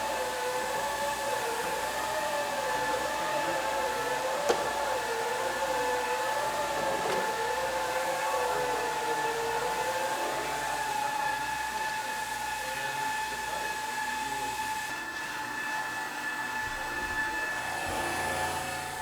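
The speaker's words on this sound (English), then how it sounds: "Now with the saw on there, the machine will go around and make all of the perimeter cuts." A machine saw making perimeter cuts in a quartzite countertop slab gives a steady, continuous high whine with a slowly wavering tone that runs unbroken and loud throughout.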